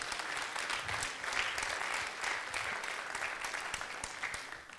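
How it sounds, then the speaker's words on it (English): A church congregation at a Sunday evening service claps steadily in sustained, even applause, a dense wash of hand claps that continues throughout without a break. "Let's give one more hand clap to the Lord."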